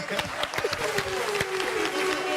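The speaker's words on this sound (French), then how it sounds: "Applaudissez pour Maël" An audience applauds a person named Maël at a local event, steady clapping over a crowd murmur with a sustained tone running underneath.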